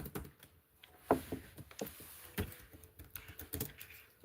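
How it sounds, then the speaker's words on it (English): Quiet typing on a computer keyboard, with irregular soft key taps and clicks coming in uneven bursts close to the microphone. "as you hear me typing"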